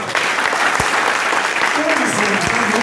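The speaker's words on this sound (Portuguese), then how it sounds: "Aplauda Jesus," A church congregation at a worship service breaks into dense, loud applause that carries on evenly to the end, with a voice calling out faintly beneath it.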